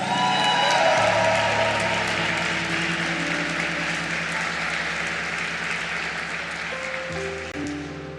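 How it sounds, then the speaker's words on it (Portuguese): A church congregation claps for the apostles Samuel and Neila, a broad wash of applause that swells early and gradually fades, with sustained keyboard or organ chords playing underneath. "Eu queria que você aplaudisse bem forte ao Senhor a vida do apóstolo Samuel e da apóstola Neila"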